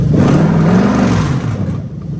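A Toyota UZ-FE VVT-i V8 in a manual right-hand-drive car revs up in one steady rise and fall, close and loud, with no talking.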